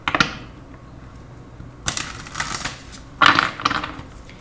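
Tarot cards being shuffled and drawn, three sharp riffling flurries of card edges snapping together, close and crisp, separated by quiet pauses.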